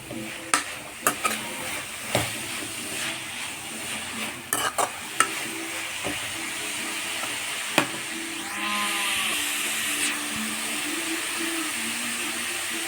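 Beetroot stir-fry being stirred in a pan, with scattered scraping knocks of the spoon against the metal over a soft sizzle that grows steadier and louder toward the end.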